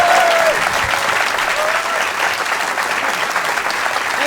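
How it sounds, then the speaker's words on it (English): A theatre audience at Leicester Square Theatre in London claps loudly and continuously after a comedy podcast recording, a dense, even wash of applause with scattered cheers. "give a massive round of applause, Zoe Lyons!"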